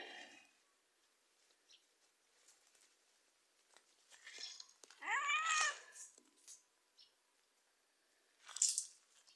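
A kitten meows while playing with its mother cat in the morning, giving a few faint, close mews: one longer wavering cry in the middle and a brief high squeak near the end, with soft scuffling patters between.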